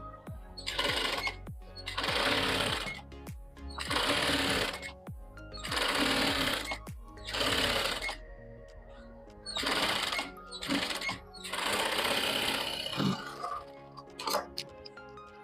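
A sewing machine stitches a blouse strip in short bursts of rapid whirring, roughly a second each, separated by brief pauses, close and clear with no talk.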